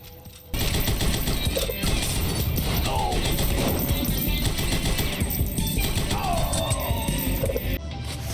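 Dense automatic gunfire from the side-scrolling shooter Huntdown plays as a sustained, loud rattle of rapid shots. Crashes, impacts and game effects layer over it with almost no break.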